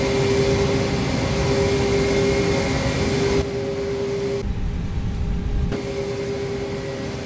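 An Airbus A321neo in a flight simulator game taxis toward the runway with a steady engine whine and hum. The tone stays constant and alone, briefly shifting in level as the camera view changes.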